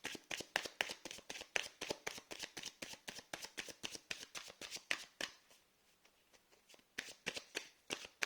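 Tarot cards shuffled by hand in a steady rapid run of crisp riffling slaps, pausing briefly near the end before a few final card taps and flutters as cards drop, close and clear with no voices.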